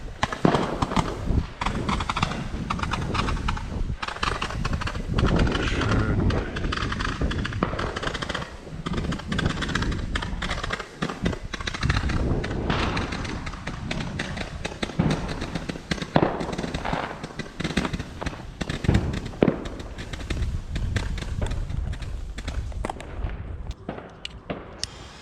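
A Comet Sandstorm 175-shot firework battery goes off on New Year's Eve, a loud, dense, continuous barrage of crackling bangs lasting the whole stretch before thinning out at the end.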